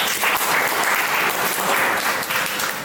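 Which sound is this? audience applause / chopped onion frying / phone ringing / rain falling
audience applause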